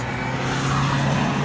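A loud car roaring past on a city street in Poznan, Poland, its steady engine drone holding strong and close for the whole brief moment with no talk over it.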